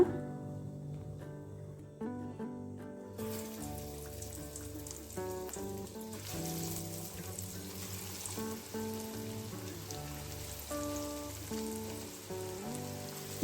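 Dill leaf and chana dal vadas deep-fry in hot coconut oil in a pan on a gas stove. A steady, rain-like sizzle sets in after a few seconds and continues beneath background music.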